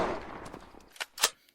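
Two sharp gunshots from the video game Unturned crack out close together near the end, following a stretch of low game noise, with a fainter pop just after.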